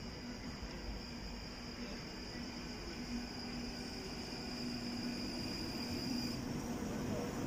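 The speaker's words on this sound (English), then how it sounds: "We've got another Northern Line train going to High Barnet." A London Underground Northern Line train to High Barnet draws into an above-ground station, its broad rumble and whine building slowly and growing louder toward the end, steady and unbroken throughout.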